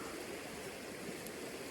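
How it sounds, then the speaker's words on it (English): A river on the Eagle Rock Loop near Winding Stairs flows steadily in a broad, constant rush of water, close and alone with no voices. "I got to cross the river"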